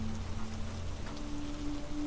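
Steady rain falls around a cabin by the sea, a soft, even hiss of drops close by with a low hum underneath, no voices.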